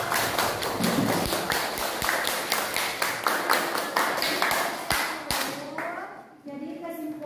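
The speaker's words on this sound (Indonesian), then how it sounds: "Tepuk tangan." A group claps in a classroom, with rapid, rhythmic hand claps repeating close and loud for about six seconds before stopping, followed by faint voices.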